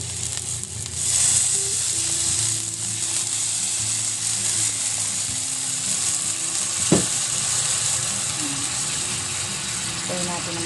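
Sugar and water melt in a pan for making banana cue, a steady loud sizzle and hiss with occasional stirring scrapes, continuing throughout with a single sharp clink midway.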